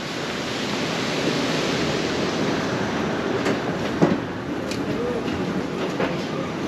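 A moving passenger train on a Moscow-area line toward Domodedovo, heard from inside the carriage as a steady loud rumble and rushing hiss with faint rail clicks, a brief knock near the middle.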